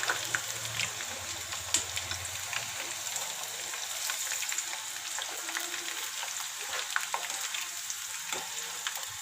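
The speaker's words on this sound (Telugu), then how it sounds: "అలా గోల్డెన్ బ్రౌన్ వచ్చేదాకా కాల్చుకుందాం" Corn frying in oil over a low flame, crisping toward golden brown: a steady, even sizzle with fine crackling pops throughout, close and continuous with no talk.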